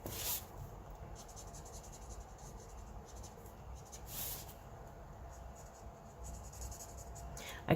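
An Arteza Everblend alcohol marker with a bullet nib scratches softly and continuously across paper in faint, close strokes over a low background hiss.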